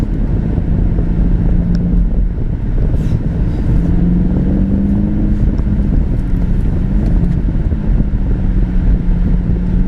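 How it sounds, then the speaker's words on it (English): A loud, steady engine drone from inside a moving BMW M850i with its exhaust in sport mode, low and throaty with rising and falling pitch, buffeted by wind noise. "Suddenly the exhaust makes a different sound."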